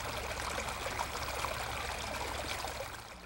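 Creek water flows steadily along the banks of Salt Creek, a continuous close-up rushing and trickling wash with no voices over it.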